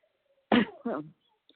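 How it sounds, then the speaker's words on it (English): Two harsh, close coughs in quick succession over a prison phone call, the second slightly softer, with near silence around them. "Just coughing a lot."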